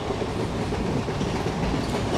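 A Kakatiya Express train in the Trainz mobile game runs steadily with a continuous rumble and rhythmic wheel clatter, loud and unbroken throughout with no voices.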